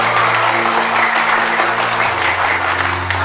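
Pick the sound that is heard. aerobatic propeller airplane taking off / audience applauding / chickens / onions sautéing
audience applauding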